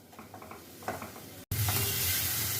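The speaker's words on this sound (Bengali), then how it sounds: "এবারে সমস্ত মশলা আমি আবার কষিয়ে নিচ্ছি খুব ভালো করে।" Spice paste for a mushroom curry sizzles and is stirred in hot oil, a quiet scraping first, then a sudden louder, steady frying hiss after a brief gap, with no talking.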